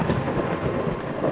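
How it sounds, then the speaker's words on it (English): A thunderstorm rumbles steadily with rain hissing throughout, a continuous dense wash of weather sound from a medieval steampunk colony-builder game, with no talking over it. "God, the storm."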